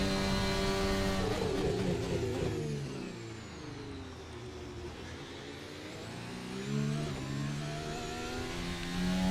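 A race car engine on a lap in the F1 2025 video game at Bahrain, revving high, dropping through downshifts under braking, then climbing again as it accelerates, loud and continuous.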